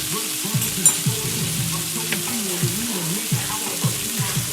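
Chicken breasts frying in a pan, with a steady close sizzle running throughout and small crackles and pops scattered on top.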